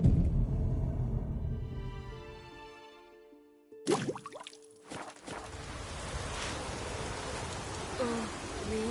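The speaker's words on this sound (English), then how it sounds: "Oh, raining again." Steady rain hisses in the video game The Witcher III, entering after a musical passage and a few thuds, then continuing as a dense, even wash.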